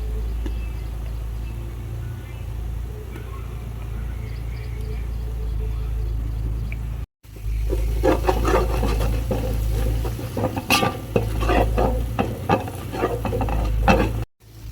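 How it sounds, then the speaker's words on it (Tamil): Chili powder sautés in a pan for biryani paste, first a low steady hum with faint sizzle, then louder scraping stirs and crackling fry after a brief cut, close up with occasional voices underneath. "மிளகாத்தூள் போட்டு ஒரு பத்து செகண்ட் வதக்கிட்டு"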